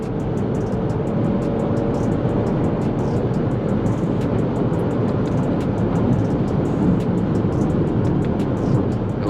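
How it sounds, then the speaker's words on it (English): A 2023 Lexus ES 350 with an 8-speed automatic accelerates in 4th gear, heard from inside the cabin as a steady, muted engine drone blended with continuous road and wind noise. "Let's drop it in 4th."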